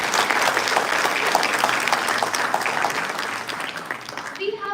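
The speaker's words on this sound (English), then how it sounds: "Can we please have a round of applause for our judges?" Audience applause for the judges at the final rounds of a national client counselling competition, a sustained even roar of many people clapping in a hall, fading slightly near the end.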